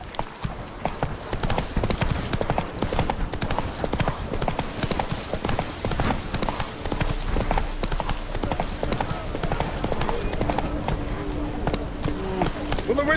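Roach, a horse in The Witcher 3: Wild Hunt, gallops with rapid, steady clip-clop hoofbeats that stay close and loud throughout, while game voices talk over the rhythm.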